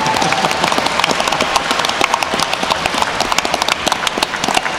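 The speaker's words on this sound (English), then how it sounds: "Let's give them a round of applause" A crowd at a MCM London Comic Con panel claps in dense, close applause that holds at a steady level throughout.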